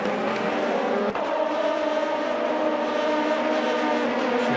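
Race cars overtaking on the Mandalika circuit during the Epilogue 600 race. A loud, sustained high-revving engine whine holds steady with a brief sharp transient, and no one talks.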